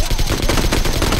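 Rapid AK rifle gunfire in a video game, a dense, continuous burst of shots filling the whole moment at close range, with no talk over it.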